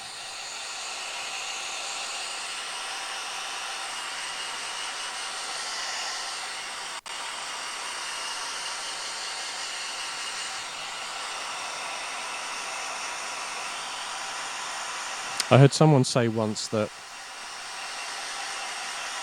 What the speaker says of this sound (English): using a hairdryer can make paints a bit fragile because you're speeding up the drying.